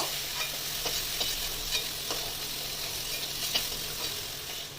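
Pieces of crab being lightly fried and stirred in a pan for a Bengali crab curry: a steady close sizzle with occasional scraping clicks from the spatula, and no voices.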